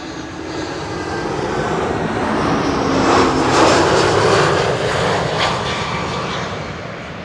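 An ITA Airways jet arriving from Milan lands at Amsterdam Schiphol, its steady engine roar swelling and fading across the airfield, fairly loud and heard from a distance, with no voices.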